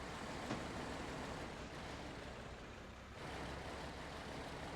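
A Mack cab-over truck drives over rough terrain in SnowRunner, its engine giving a steady, faint low drone with a slight dip partway through.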